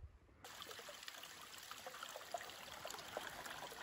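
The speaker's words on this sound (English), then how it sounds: "I do believe I hear water." A small woodland stream on a December trail trickles steadily, a faint continuous babbling wash heard from a little distance, with no one speaking.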